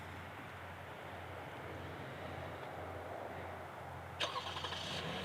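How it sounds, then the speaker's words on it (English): A 2021 Lexus RX 350 F Sport, started by remote, fires its engine near the end: a steady low background rumble, then a brief crank and catch as the motor comes to life at moderate distance. "When we remote start the vehicle, you just hit the lock button 1, 2, 3, and hold it on the third time."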